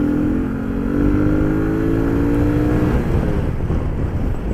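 A 2024 Sanya X1000 motorcycle engine revs up close and loud, its tone climbing and dropping in sweeping pulls over a steady rumble, with no one talking.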